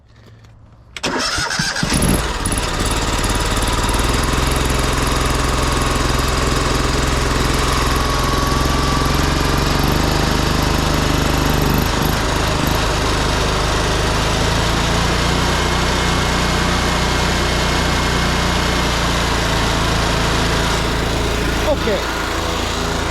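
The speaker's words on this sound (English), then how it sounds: "Let me crank up the machine on 3/4 speed here today." A gas pressure washer engine is cranked up and then roars steadily at three-quarter speed for a long stretch, loud and close, outdoors beside a house.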